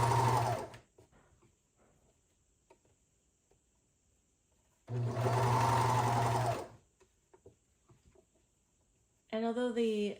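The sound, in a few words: serger sewing a bra seam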